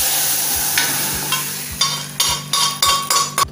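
Sambar is poured into a hot, freshly fried tempering in a pan, producing a loud, continuous sizzle punctuated by rhythmic spoon knocks and stirring bursts, with no talk.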